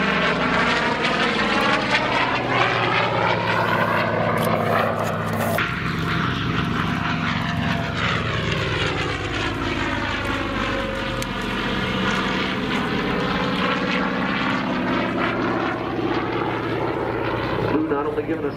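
Propeller warbird aircraft such as a P-51, P-40, Spitfire or F4U Corsair roars past at an airshow, its engine drone sweeping with a strong pitch shift as it passes, while an announcer talks over it.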